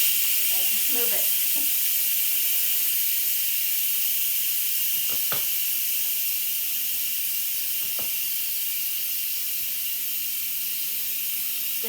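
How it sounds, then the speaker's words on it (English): Steam hisses steadily from the release valve of a pressure cooker cooking vegan beans, a loud continuous rush with a few faint clicks from the valve being nudged with a long spoon. "So it just takes a minute to release the pressure."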